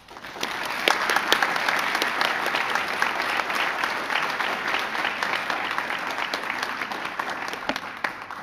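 Audience applause at the Gaisce Gold Awards ceremony with the President of Ireland, a sustained round of dense clapping from a sizeable crowd, steady throughout and tapering slightly at the end.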